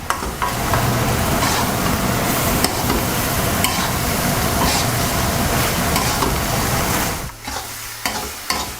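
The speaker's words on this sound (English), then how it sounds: "And let's fry up this mince properly." Beef mince with whole red chilies and spices fries in a pan for aloo keema, a loud, steady sizzle with stirring scrapes throughout, easing off near the end.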